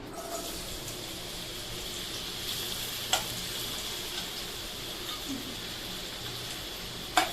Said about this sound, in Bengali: এই যে গাজরগুলো ভাজছি